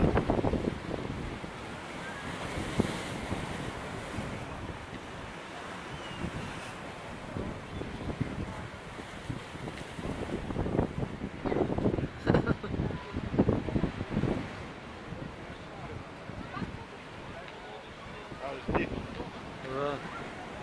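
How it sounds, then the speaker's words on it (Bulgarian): Waves splash against a beach under heavy wind buffeting the microphone, a continuous rushing wash with a few stronger surges, while a voice talks faintly in the background. "Ето виж как пръскат вълните."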